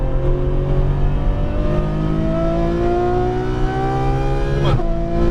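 A Ferrari F12 Berlinetta's engine revs hard on a track, its pitch climbing steadily through a gear before a sharp shift near the end, loud and close from on board.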